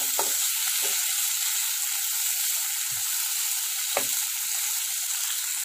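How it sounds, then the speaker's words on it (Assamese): Cumin powder and spices frying in a pan give a steady, close sizzle that holds evenly throughout, with a few brief clinks and soft knocks of a utensil against the pan. "মছলাখিনি দি লোৱাৰ পিছত অকণমান সময়ৰ কাৰণে ভাজি ল'ব।"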